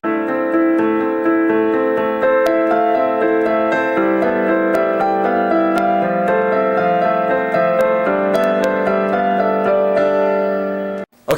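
Solo piano plays an improvised harmonized melody, steady chords and a singing top line ringing continuously and clearly, with no talk.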